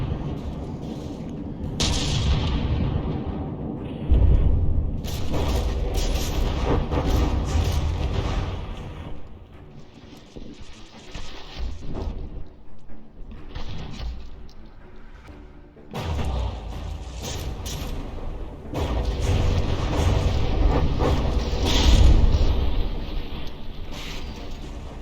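Heavy battleship cannon barrages in the From the Depths naval combat game, a dense sustained roar of booming fire and explosions that swells, dips briefly, then surges back loud.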